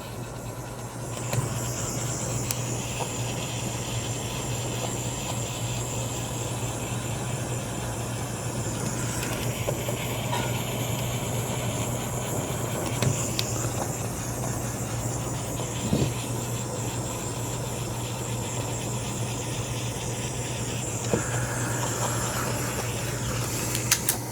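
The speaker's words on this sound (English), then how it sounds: "Heat gun works pretty good for this too." Heat gun blowing hot air onto an e-bike motor connector: a steady, close whooshing hiss with a constant low hum, running continuously with faint clicks and handling bumps.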